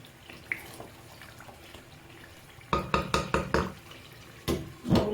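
Pasta boiling in a pot, with a low simmering bubble at first and then a run of louder, close bubbling pops and knocks.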